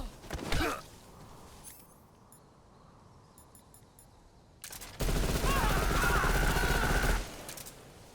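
A rocket launcher fires in Metal Gear Solid Delta, with a sharp blast early, a quieter stretch of faint clicks, then a loud, sustained roaring burst of fire and explosion lasting a couple of seconds.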